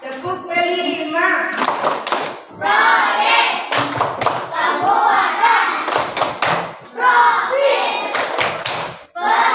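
A school class claps hands in a rhythmic patterned chant, sharp bursts of claps in groups alternating with chanting voices, loud and close.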